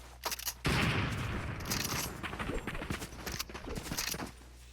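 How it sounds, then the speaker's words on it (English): A sniper rifle shot in a Fortnite duos match, one sharp blast followed by a dense rattle of game gunfire and clattering effects that carries on for several seconds. "he goes for a shot with the sniper rifle"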